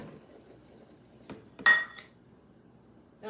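Flour tipped from a measuring cup into a mixing bowl for fruit and nut muffins, a quiet tap followed by a sharp metallic clink, a brief scrape, and another knock at the end.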